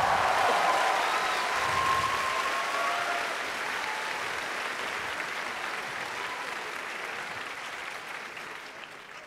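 A live audience of about 4,000 people roars with applause and cheering, a loud, sustained wall of clapping and crowd noise with a few high whoops that slowly fades over several seconds.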